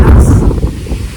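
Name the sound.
strong wind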